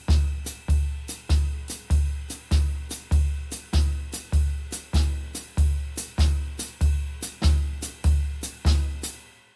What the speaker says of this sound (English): the bass drum is going to be playing all quarter notes, which is going to be creating a double stop on 2 and 4 with the snare